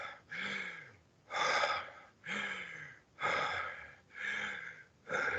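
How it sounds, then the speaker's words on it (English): Short, rapid breathing exercise done as a series of sharp, forceful breaths, about six quick bursts in a steady rhythm with brief pauses, close and fairly loud with no talking. "We need to actually do that short breathing."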